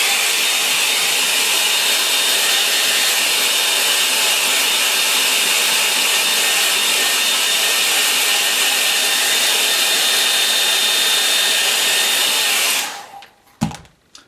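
A hair dryer blows steadily and loudly for about thirteen seconds while it dries watercolour paint, then cuts off with a short clatter as it is set down.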